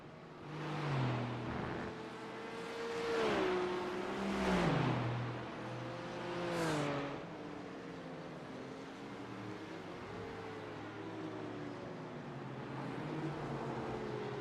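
A Porsche race car engine in iRacing at Hockenheim drones and rises in pitch through several revving sweeps and gear changes, then settles into a steadier hum, fairly close and unaccompanied.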